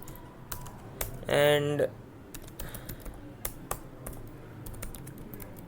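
C++ code typed on a computer keyboard, a close run of irregular key clicks throughout, with a short spoken word partway through.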